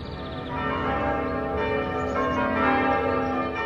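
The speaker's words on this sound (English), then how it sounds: "the bells were chimed by ropes attached to levers at their head" Church bells, chimed by ropes on levers at their heads, ring out in an overlapping, sustained peal with rich lingering tones, fairly loud and continuous throughout.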